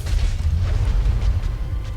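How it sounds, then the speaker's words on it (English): Area-of-effect explosion from Dark Souls during the Quelaag boss fight in Blighttown: a sustained, loud low rumbling boom with crackling bursts, heard alone without talk. "Yep, that was the area of effect explosion. You want to watch out for that."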